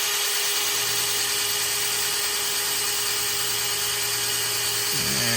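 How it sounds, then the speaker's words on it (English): An electric drill priming the oil system of a Barracuda's car engine gives off a steady, loud, unbroken high whine, close up and alone throughout. "I can prime this thing with the drill and watch the gauge"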